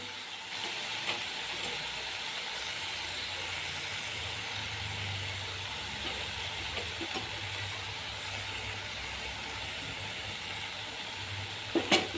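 Gram flour being added to chivai greens frying in a pan, giving a steady low sizzle throughout with a few faint stirring clicks, ending in a short louder scrape.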